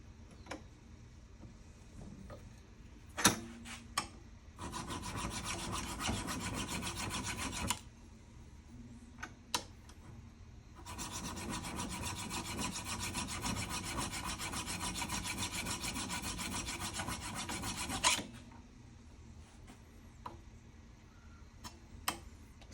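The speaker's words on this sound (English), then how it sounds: "A lot of patience, a lot of filing." Steel for a boxcar jaw harp is filed by hand in two long bouts of rhythmic rasping strokes, close and steady, separated by a pause with scattered sharp taps and clinks.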